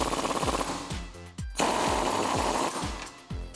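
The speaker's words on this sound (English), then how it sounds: "Now we can take a 19mm deep socket and tighten that down." A 19mm deep socket drives a U-bolt nut tight during a Teraflex lift kit install on a Jeep Wrangler JK, giving loud, close, rapid rattling bursts in a regular rhythm with brief gaps.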